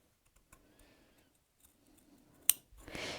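Scissors cut into jacket fabric for a welt pocket: quiet faint handling and small ticks, then one sharp, close metallic snip, followed by a brief soft rustling swish.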